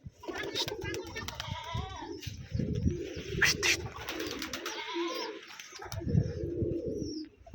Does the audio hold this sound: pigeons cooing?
yes